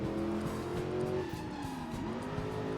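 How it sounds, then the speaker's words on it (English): Car in the Driver: San Francisco video game skids through a handbrake turn, the engine droning steadily while a long tire squeal bends and wavers across the whole stretch, loud and close. "That count as a handbrake turn"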